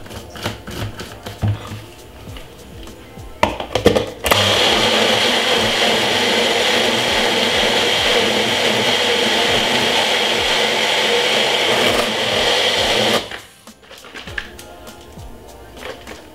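A loud blender making juice whirs steadily for about nine seconds, starting and stopping abruptly, with clattering handling noises before and after.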